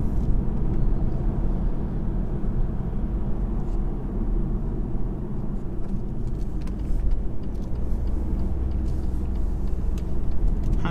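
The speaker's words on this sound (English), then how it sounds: "let's now get on a B road and see if a base model diesel can be any fun." A 2018 BMW 116d base-model diesel hatchback on a B road, heard from inside as a steady low engine drone and road rumble with tyre roar, continuous and fairly loud.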